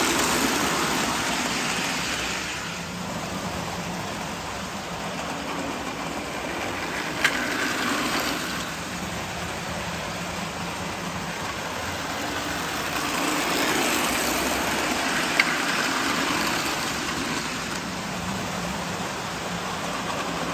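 Marx toy trains of a Western Pacific passenger set run on a layout, giving a steady close whirring, rattling rumble that swells and eases over about twenty seconds, with a couple of faint clicks and no talking.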